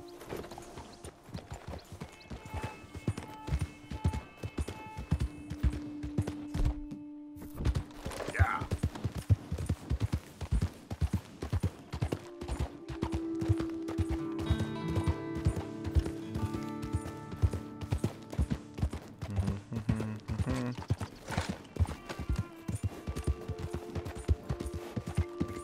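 Horse hooves clip-clop steadily in Red Dead Redemption 2, a continuous even trot under sustained game music and ambience for the whole stretch.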